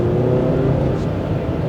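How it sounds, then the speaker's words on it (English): A CVT-equipped car revving at full throttle, the engine holding a steady, loud droning scream without gear changes. "The engine screams a little bit"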